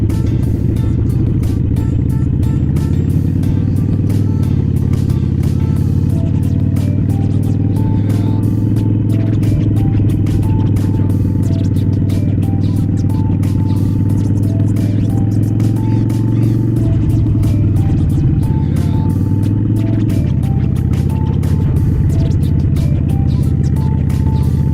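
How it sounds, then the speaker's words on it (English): Harley-Davidson motorcycle engine while riding, a loud continuous low rumble that holds steady throughout, with a slight shift in pitch near the end and no clear talk. "this Harley is got a lot of vibration"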